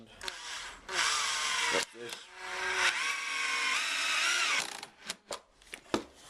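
A power driver sinks a turbo screw into timber, whining in two bursts of rising motor pitch that strain as the screw bites, then stops, followed by a few sharp knocks; a brief word is spoken.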